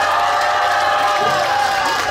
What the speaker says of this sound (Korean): 더불어서 잘한다, 우와 이런 것도 한번 해주실까요?